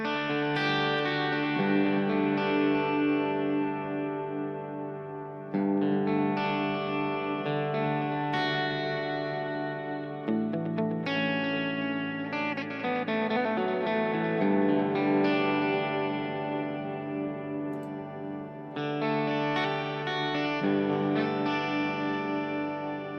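Electric guitar through a Headrush pedalboard plays sustained chords and melodic lines thickened by a pitch-shifting harmonizer effect blended in by expression pedal, with distortion and echo, no voices.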